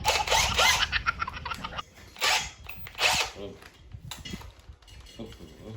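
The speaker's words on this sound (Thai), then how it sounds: "นี่นะครับสว่านเจาะรูนะครับ" An electric drill bores holes in PVC pipe for a clothes-drying rack, heard as short loud whirring bursts mixed with rattling and clatter, close by.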